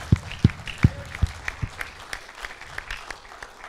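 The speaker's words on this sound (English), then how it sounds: "we can give her a round of applause" Conference audience applauding at a faith event's graduation panel, a thin spread of claps with a few loud close hand claps up front, tapering into scattered lighter clapping.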